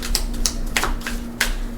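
Tarot-style oracle cards being shuffled by hand, a run of quick dry riffles and slaps in a short irregular burst, fairly close and clear, with no talking.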